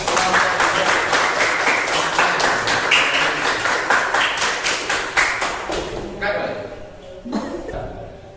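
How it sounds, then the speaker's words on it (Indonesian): Students in a classroom clap after a Quran study discussion, a burst of rhythmic, somewhat unified clapping that thins out and fades, with a few scattered claps and voices near the end. "Tepuk tangan untuk"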